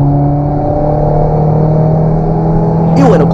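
A Nissan Sentra B13 running with its intake filter removed revs hard and holds a loud, steady, tonal drone close up, with a sudden sharp rise near the end.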